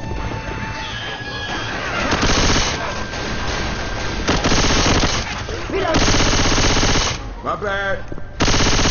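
Loud, sustained automatic gunfire in Left 4 Dead 2, long rapid bursts broken by short pauses, with game voices talking over the shooting.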